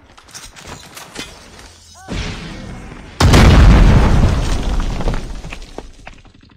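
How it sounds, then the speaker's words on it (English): A video-game grenade goes off with one heavy, close boom that swells from a lower rumble into a long roaring blast, then a gradually decaying tail as the match continues. "Grenade!"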